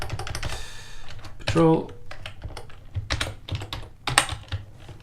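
Rapid clicking of a computer keyboard while someone codes enemy patrol logic for a top-down action adventure game, with bursts of keystrokes between a man's close speech.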